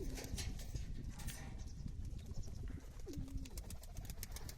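A young male pigeon coos in short, low rolling calls, two distinct phrases, over a noisy background of rustling and scattered clicks.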